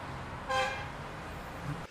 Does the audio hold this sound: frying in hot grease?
no